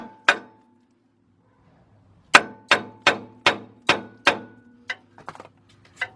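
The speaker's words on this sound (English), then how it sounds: "So we're gonna get the hammer here." Eight sharp metallic hammer blows on a ball joint of a 1995 Ford Econoline E150 van, a single strike followed by a steady run of evenly spaced hits, then a few lighter taps and clinks.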